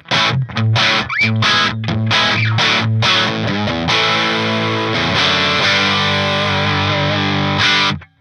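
Distorted electric guitar from a Line 6 Helix through a cabinet impulse response plays a chugging riff of palm-muted hits, then sustained chords ring out loud, with a fuller, warmer tone and smoother highs.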